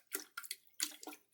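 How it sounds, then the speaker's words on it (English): A canister filter sponge squeezed out into distilled water, a few short wet squelching and splashing bursts in quick succession, close and fairly quiet. "just squeeze it out in your distilled water"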